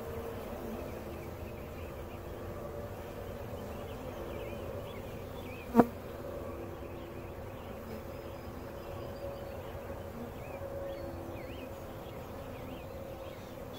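Honey bees from a swarm trap buzz steadily in a soft, continuous drone, with one brief sharp knock partway through.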